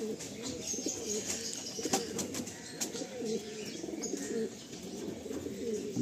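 Kaldom pigeons coo steadily in a loft in Garia, Kolkata, a dense layered chorus of soft rolling calls with occasional chirps and wing flutters, close and continuous.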